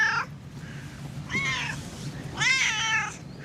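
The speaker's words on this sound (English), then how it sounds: "Look at the kitty." A cat meows several times indoors, short harmonic cries coming in bursts over a low steady background hum, fairly close and clear.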